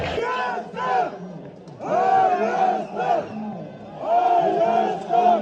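Georgian football fans in a stadium at a Nations League match against Armenia chant 'Sakartvelo' in loud, rhythmic bursts from a large crowd, with short pauses between the chanted phrases.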